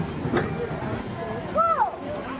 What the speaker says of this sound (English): Do you hear that? It's a choo-choo.